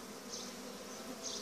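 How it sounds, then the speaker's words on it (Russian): Honey bees buzz at the hive while carrying pollen in early spring, a dense, close, continuous hum with no talk. "Здесь у нас пчелки, кстати, несут пыльцу уже."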